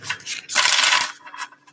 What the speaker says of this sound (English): let's get some shuffles on the Britney deck